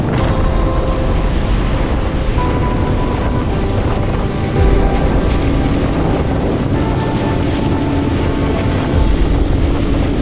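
A fast speedboat cuts across open water off Kerala, with a steady, loud roar of engine, rushing spray and heavy wind buffeting throughout.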